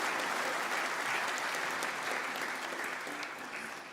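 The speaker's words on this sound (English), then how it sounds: "Round of applause for the volunteers." Steady applause from a sizeable crowd at a live Celtic Colours concert, clapping continuously and slowly fading toward the end.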